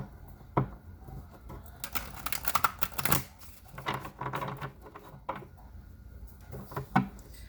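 Quick papery riffles and soft slaps of tarot cards being shuffled in short bursts, close and fairly quiet, with brief pauses between.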